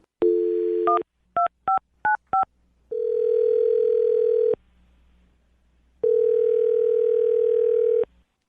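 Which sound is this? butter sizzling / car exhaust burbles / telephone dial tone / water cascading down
telephone dial tone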